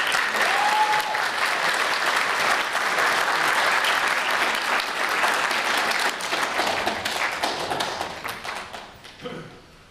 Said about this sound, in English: give yourself a pat on the back or a round of applause for everything you guys have done